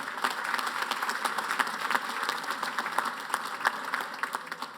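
Steady round of applause from a seated crowd at an anniversary dinner, dense clapping sustained evenly throughout with no talk over it.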